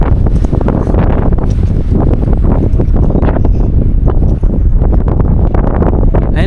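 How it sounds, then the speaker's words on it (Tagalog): Strong wind roars and buffets the microphone continuously on a hilltop overlooking mountains in Malico, Pangasinan, with gusty rumbling throughout and no voices. "Lakas ng hangin."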